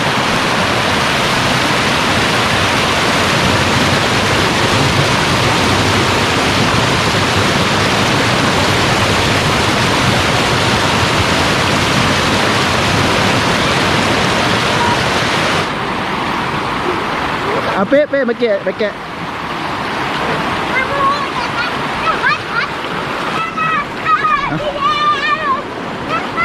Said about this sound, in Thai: ไม่คิดว่าจะมีน้ำตกนี้นะครับท่านผู้ชมนี่ครับสวยมาก ตกขนาดเล็กครับ